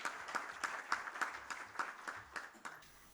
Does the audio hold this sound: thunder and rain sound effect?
no